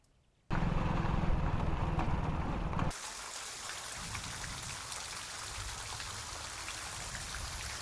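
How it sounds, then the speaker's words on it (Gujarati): Heavy evening rain pours down in a village, a dense continuous hiss of drops on surfaces. It starts loud and close after a brief quiet moment, then settles into a steady, slightly softer downpour. No thunder is evident. "અમારા ગામમાં કડાકા અને ભડાકા સાથે વરસાદ આવી રહ્યો છે"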